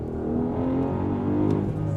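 A 2025 Porsche Cayenne Turbo E-Hybrid's twin-turbo V8 drones under full kickdown acceleration, a steady, moderately loud engine note with rising harmonic tones heard from inside the cabin.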